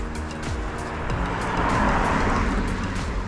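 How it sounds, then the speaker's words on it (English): A car passes along a lane during a countryside walk at Weavers Down near Liphook, a broad engine and tyre rush that swells and fades while no one speaks. "Oh, another car, here we go."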